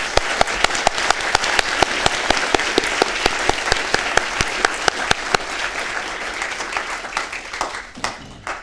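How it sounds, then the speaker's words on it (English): Loud, sustained applause from a council meeting audience honoring firefighters and first responders, dense clapping throughout that thins out and fades near the end. "let's give them a round of applause."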